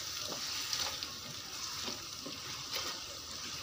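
A masala gravy with a splash of water is stirred in a pan, soft sizzling under repeated scraping strokes of a spoon, close and fairly quiet.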